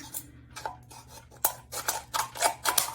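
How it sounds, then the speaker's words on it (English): Scissors cut through a thin recycled tin can, making a run of close, sharp metallic snips and scraping crunches, each cut a short bright burst, with no talk over them. "And these cans cut pretty easy. They're not too hard to cut."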